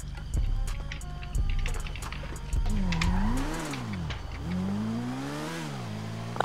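Motorcycle engine in the GTA RP video game, revving in repeated rising and falling bursts, fairly close, with the pitch sweeping up and down as the bike accelerates.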